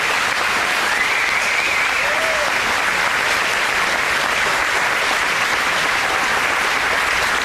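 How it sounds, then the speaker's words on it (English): A crowd applauds steadily for Stanton Shoemaker, named Clinton Area Chamber of Commerce Ag Person of the Year at a school graduation ceremony, with dense, even clapping filling the room throughout. "let's give him a round of applause"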